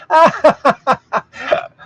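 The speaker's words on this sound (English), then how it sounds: "Oh, I gave myself the hiccups again." A man's hiccups burst out in a quick, uneven run of about six sharp, close, loud gulps over two seconds, alone with no talk between them.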